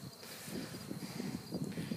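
Honey bees humming around a weakened hive with a queen inside, a faint, steady buzzing drone with a thin high whine, heard alone at low volume.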